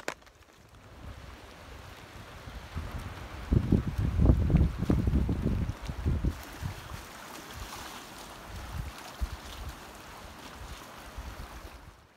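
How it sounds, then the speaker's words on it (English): Wind gusts and rumbles against the microphone with a broad outdoor roar on a gray day at a lakeshore in the Boundary Waters Canoe Area, swelling in the middle and easing off, no voices. "It is gray and windy"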